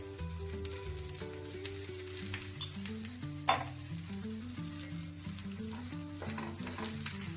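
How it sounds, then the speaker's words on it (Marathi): Methi paratha fries in ghee on a low flame, giving a steady soft sizzle throughout with a brief louder crackle midway, under melodic background music. "बारीक आचेवर आपण त्याला शिजवूया"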